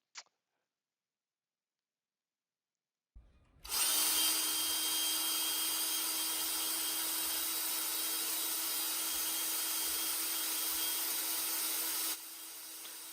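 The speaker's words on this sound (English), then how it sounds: "the motor of that drill is actually causing interference, causing noise on the line" An electric drill motor runs in a loud, steady whine for about nine seconds after a short silence, ending with a slight drop in level.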